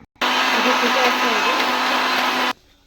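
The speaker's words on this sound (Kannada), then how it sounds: "ಇದಕ್ಕೆ ಸ್ವಲ್ಪ ಜೀರಿಗೆ ಹಾಕ್ಕೊಂಡು ಸಣ್ಣಗೆ ರುಬ್ಕೋಬೇಕು" A mixer grinder whirs steadily, finely grinding coriander, curry leaves and cumin for a Kannada-style saaru, starting abruptly, running loud and close for about two seconds, then cutting off.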